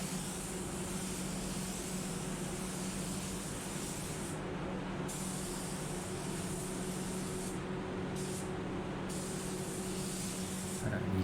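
A spray gun lays a light first coat of paint during a smart repair, giving a steady, close hiss that runs almost continuously and breaks off briefly a few times.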